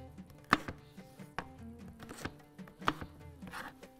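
A knife chops capsicum into chunks on a board in a home kitchen, with several sharp close thuds spaced irregularly over a quiet background.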